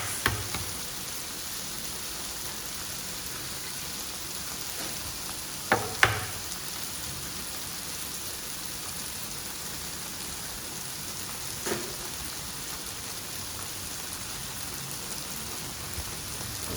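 Beaten eggs for pad thai sizzle in a hot pan as a steady, soft hiss, with a few brief louder pops and clatters around the sixth and twelfth seconds.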